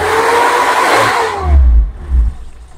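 A Suzuki Ertiga CNG car's 1,600 cc engine whirs high and steady, then drops into two deep, close revving surges before fading.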